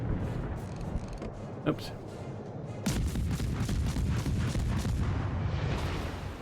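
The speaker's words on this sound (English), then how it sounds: "I have it fire on volley fire" Warship guns in World of Warships fire in volley, booming bursts and rolling artillery rumble that swell louder midway, with someone briefly speaking over the battle.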